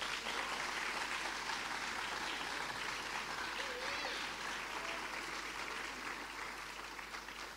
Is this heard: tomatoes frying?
no